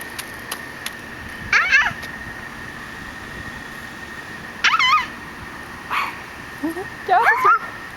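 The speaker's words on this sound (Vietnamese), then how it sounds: "nó sủa con lại kìa." A dog barking outdoors beside a child on a balance bike, a few short yips and barks in separated bursts at moderate distance over steady background hiss.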